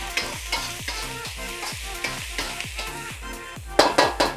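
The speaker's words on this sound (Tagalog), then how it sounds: "Haluin po natin." Sisig with onions and soy sauce being stirred in a hot pan, a steady rhythm of spatula scrapes over a constant sizzle, with a few louder clanks near the end.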